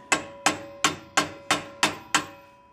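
A hammer strikes an impact socket seven times in an even rhythm, trying to drive out a splined suspension part on a 2003 Honda Element. Each close, ringing metallic hit decays quickly.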